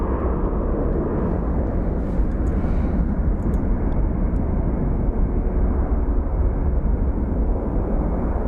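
An airliner at Phoenix Sky Harbor International Airport gives a loud, steady, muffled roar that holds without a break throughout, with no talk over it.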